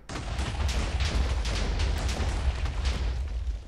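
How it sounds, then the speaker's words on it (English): Minecraft TNT blasts from a mod, heard as a dense run of booming, crackling explosions that fire back to back, loud and close, with no gaps between them. "after lit, it shoots TNT in the air and comes crashing down"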